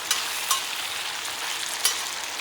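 Coarsely chopped ginger chicken, about three-quarters cooked, sizzles steadily in a hot wok, a dense crackling hiss broken by a couple of sharp clicks from stirring.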